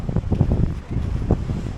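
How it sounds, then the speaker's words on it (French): Strong wind buffeting the microphone on a boat trip along the capes near Saint-Tropez, a steady low rumbling roar with gusty swells and no voices. "Il y a un grand vent."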